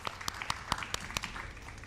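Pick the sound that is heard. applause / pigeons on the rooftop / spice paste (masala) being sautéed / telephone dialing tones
applause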